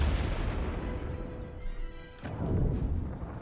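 Ship omni cannons firing in a space battle in Star Wars: The Old Republic, a dense run of booming blasts and bursts, a steady loud barrage with a brief lull near the end before resuming.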